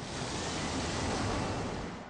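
Ocean surf roars as a large wave crashes down over a surfer, a dense, steady rush of churning water filling the whole moment without voices.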